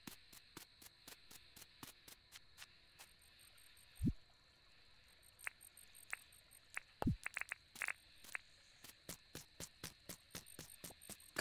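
Repeated sharp chirps from a black cricket in the farming game Dinkum, a steady run of short clicks at a moderate distance over faint ambient hiss, with a couple of heavier thuds between.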